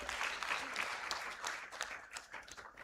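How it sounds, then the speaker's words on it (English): A round of applause for a speaker at the Annual Registrars' and Magistrates' Conference 2025 rolls through a hall. Many hands clap in a dense, even patter that fades slightly toward the end. "Another round of applause for our speaker."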